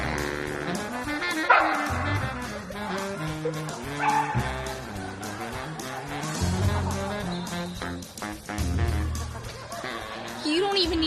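Samoyed puppy yipping and whimpering at its own mirror reflection, a run of high, excited little barks and whines over about ten seconds, close and fairly loud, with a person talking over them.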